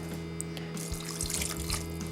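Purified water poured into an Instant Pot, a steady close trickle and splash from a cup into the inner pot, running continuously for a couple of seconds with no talking.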